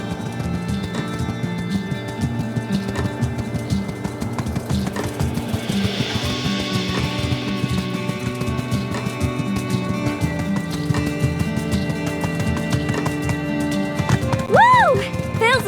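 A horse galloping with a rider in the video game My Time at Sandrock: steady rhythmic hoofbeats and clip-clop run continuously under game music, with a whinny-like rising tone near the end.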